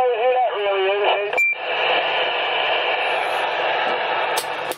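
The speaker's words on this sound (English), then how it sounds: "the lousy sound of the worst sound on the radio on Channel 19" Garbled, distorted voice over a CB radio on channel 19, a warbling tone breaking into a long burst of harsh static hiss, loud and close.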